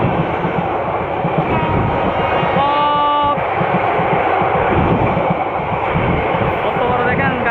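A long passenger train on the Cox's Bazar to Dhaka line rumbles past close by, loud and continuous, with wheels clattering on the rails and a brief horn-like tone partway through. A person talks over it.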